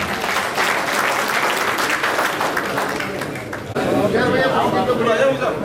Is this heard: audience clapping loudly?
yes